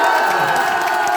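Loud crowd cheering and shouting with some clapping at a political press event for a district mayor candidate, a dense roar of many voices held throughout.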